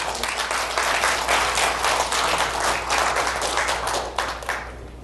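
Audience clapping steadily throughout at a lecture on economic change and growth policy, a dense, even wash of hands from a sizable crowd that thins slightly near the end.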